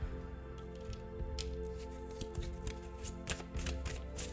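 Message cards shuffle in soft, uneven bursts of riffling and sliding paper, close and moderately quiet over a low background hum.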